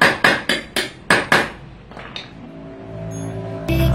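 A bicycle part is struck with a hammer six times in a fast, even rhythm of loud, sharp, ringing metallic blows up close, followed by quieter clinks and a low workshop hum.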